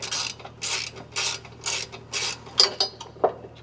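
A ratchet wrench on bolts fitting a bracket to a Ford Ranger Raptor gives several rhythmic bursts of close ratcheting clicks, then a few sharper single clicks, with no talk.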